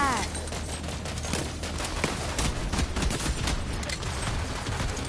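Dense, continuous gunfire in the video game Borderlands 3, a loud rattling fusillade of rapid overlapping shots that runs the whole time with no break.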